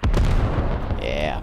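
A direct mortar strike explodes in the military shooter Squad with a heavy, booming detonation. A deep rumbling tail follows, and a faint whistling tone rises near the end.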